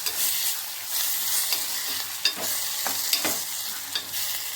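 Tomatoes frying in oil in a pan for pappu charu, stirred with a spoon, giving a steady close sizzle broken by repeated scraping stirs, with no talking.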